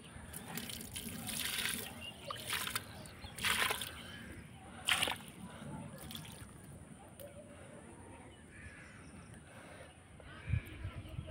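Water is poured over flowers, splashing and sloshing in uneven bursts against a steady trickling wash, fairly quiet and close.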